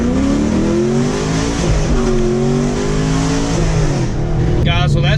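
A 2015 Chevrolet Camaro SS with an Eaton TrueTrac differential accelerating hard, its engine note climbing steadily through rising harmonics, loud and close from inside the car, with a voice briefly heard over it.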